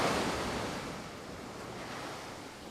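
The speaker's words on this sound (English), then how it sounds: "Sounds like waves crashing." Ocean waves crash and surf rushes in a continuous broadband wash, loud at the start and easing slightly, with some wind noise and no speech.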